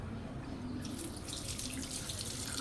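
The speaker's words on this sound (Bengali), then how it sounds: "পানি মারেন তাইলে।" Water gushes from a tap onto frog meat being cleaned in a sink, a steady splashing stream that grows brighter and louder after the first second, close by with no talk.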